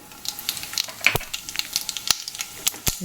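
Mustard seeds and urad dal crackle in hot oil for a drumstick-leaf stir-fry, with scattered sharp pops and light spitting over a soft steady sizzle, close by.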